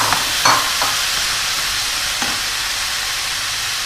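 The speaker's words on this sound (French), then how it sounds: "Je vais les remuer pendant quelques minutes pour leur donner elles aussi une légère coloration" Sliced courgettes and potatoes sizzling in a pot as they are stirred, a loud continuous hiss of frying with a few scraping spoon strokes near the start.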